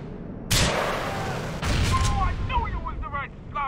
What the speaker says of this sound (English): Shots fired on the construction site in Castle Garden.